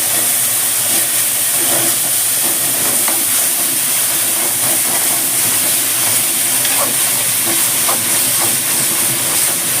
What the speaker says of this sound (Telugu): ఈ వాటర్ వేస్తే నెమ్మదిగా కలుపుకోవాలి